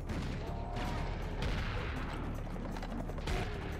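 Rapid bursts of revolver gunfire crack repeatedly through dense, loud combat noise in the Serious Sam video game, with shots and explosions overlapping throughout.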